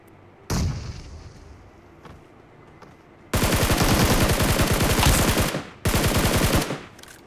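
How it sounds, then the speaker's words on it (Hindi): Video game battle sounds: a grenade blast followed by long bursts of loud automatic gunfire, a short pause, then another heavy burst, all close and dense with no talk. "मैंने यहाँ पे ग्रेनेड खोल के डाला"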